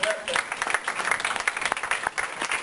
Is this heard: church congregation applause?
yes